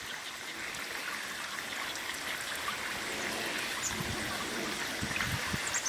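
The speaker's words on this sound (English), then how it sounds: "You can hear the pond fountain in the distance." Steady wash of a garden pond fountain splashing and trickling in the distance outdoors, a continuous soft hiss with no talking.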